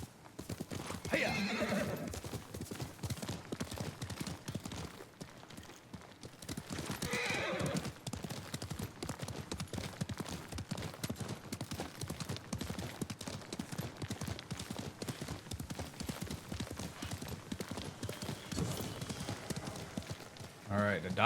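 Galloping horse hooves clip-clop steadily with an occasional whinny in Ghost of Tsushima, a continuous rhythmic pattern under game music and ambient sound that runs through the whole stretch.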